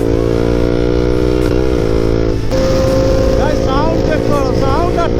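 KTM RC 390 motorcycle engine droning loudly and steadily throughout, with a shift in pitch midway as it revs up, while the rider speaks over it.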